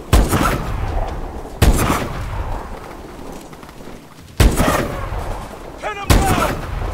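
Gunfire in the first-person shooter Call of Duty: Advanced Warfare: four loud, sharp shots at regular intervals, each followed by a rumbling tail, with voices talking between them.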